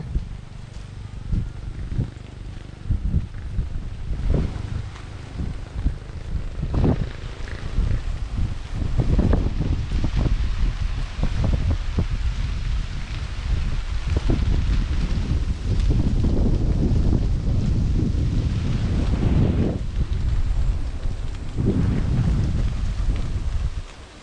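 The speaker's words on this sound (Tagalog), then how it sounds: "Dito po nanggagaling ang hangin" Steady low rumbling wind blows across a farm field, buffeting the microphone outdoors, gusting stronger at times with no talking.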